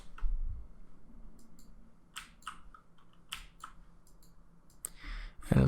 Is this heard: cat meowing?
no